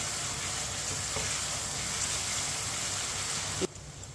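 Tomatoes for moong dal sizzle and fry in a pan, giving a steady, close, crackling hiss that runs continuously before cutting off abruptly near the end.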